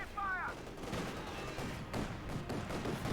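Autocannon fire from a light tank in Company of Heroes 2, a quick burst of rattling shots mixed with other battlefield gunfire, moderately loud.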